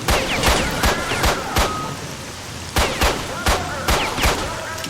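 Gunfire tearing through a fence in STALKER: Shadow of Chernobyl, sharp loud shots spaced in two clusters of several rounds each, with bullet impacts and battle ambience between.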